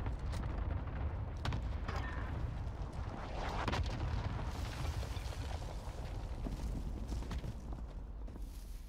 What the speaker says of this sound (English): Targets painted for airstrike. Got your request. Cluster strike is active.